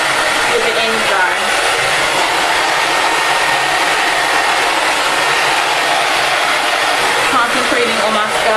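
A hair dryer blows steadily at close range to dry yarn braids, a constant loud airy whoosh with no breaks from start to finish.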